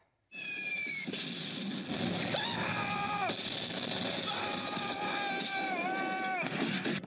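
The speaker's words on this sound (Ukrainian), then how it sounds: "Курсанти долають її під запис звуків бою, вибухи і крики" Recorded battle noise plays loudly on a military training obstacle course: bursts of gunfire and blasts mixed with shrill, wailing cries and screams, continuous and chaotic.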